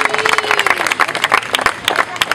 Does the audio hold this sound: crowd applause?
yes